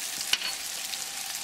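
Garlic butter mushrooms frying in a hot pan on a high gas flame, a steady soft sizzle with a single light stirring knock early on, close and alone.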